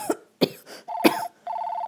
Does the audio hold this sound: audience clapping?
no